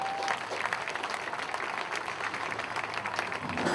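Applause for a school athletic director at an upper school meet-the-team event, a dense, steady wash of many hands clapping at moderate level with faint crowd murmur, sustained throughout.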